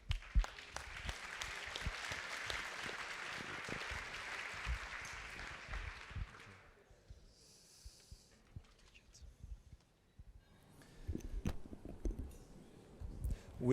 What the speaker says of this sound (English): So a round of applause for the new guests.